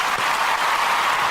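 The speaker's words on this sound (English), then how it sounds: "let me clap her up for that" Hands clapping, heard as a steady, dense burst of applause-like noise with no voices over it, lasting just over a second.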